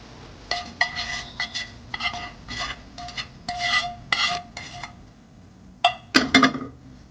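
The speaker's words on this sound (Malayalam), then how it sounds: "നമുക്കിത് അച്ചാറിലോട്ട് നന്നായിട്ടൊന്ന് മിക്സ് ചെയ്യാം" Garlic is stirred into pickle in a pan, with a run of scraping, rasping strokes of a spoon against the metal, a short pause, then a louder, brisker burst of scraping near the end.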